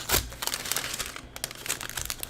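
Crinkly paper rustling with a series of quick snips and crunches as scissors cut through a paper bag, close up.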